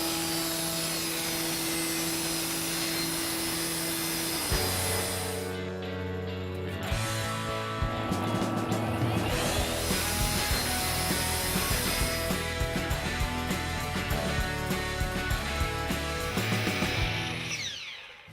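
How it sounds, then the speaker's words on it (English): A saw cuts plywood pieces for a gazebo build, its motor droning steadily with rough cutting noise, partly mixed with music. "Now we got all the pieces of plywood cut."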